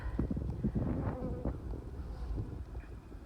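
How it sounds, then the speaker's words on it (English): Honey bees congregate outside the entrance of their hive, producing a dense, steady buzzing close by, with some wind rumble underneath and no talking. "I'm going to show you where the bees congregate before they go back in the hive."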